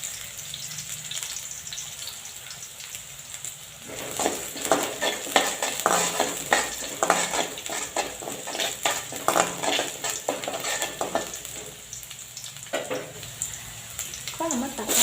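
Onions frying in a pan until golden for a brinjal and potato tamarind curry, a steady sizzle that swells as the pan is stirred with scraping, clattering utensil knocks, close, no clear talk.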